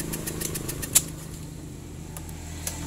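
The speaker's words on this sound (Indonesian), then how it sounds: "coba sekarang kita akan coba starter ya" Rapid rhythmic clicking and whirring of a Honda Beat fuel-injected scooter's electric starter cranking over a low engine hum, with a sharp click midway and near the end; the engine struggles to start due to an injector fault.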